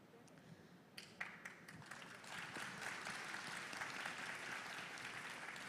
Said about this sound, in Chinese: 我这句话居然有人拍手